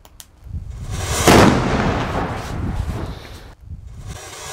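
A large firecracker goes off after a countdown, a loud close burst that swells into a long rolling roar and rumble for about two seconds before fading, then a brief quieter tail.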